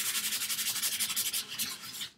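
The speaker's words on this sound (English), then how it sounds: "So I just use 220 grit sandpaper." Glossy magazine paper is sanded by hand with 220 grit sandpaper in quick, rhythmic back-and-forth rubbing strokes, close and fairly loud, with no talking.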